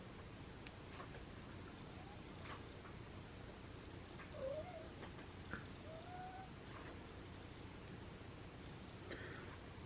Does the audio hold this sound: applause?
no